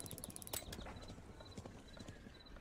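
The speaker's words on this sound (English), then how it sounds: "So there's gonna be a shit ton of horses." Horses gallop in the strategy game Thronefall, a rapid stream of clip-clop hoofbeats with occasional whinnies, close and steady across the short stretch, with no talking.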